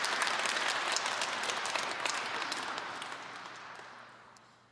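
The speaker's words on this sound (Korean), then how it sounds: "박수 안 쳐도 돼요" Lecture audience clapping at an Advent special talk, a dense steady round of applause that holds strong, then gradually thins and fades out.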